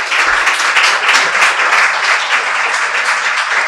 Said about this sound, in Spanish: yo quiero que le den un fuerte aplauso a Aniluz y a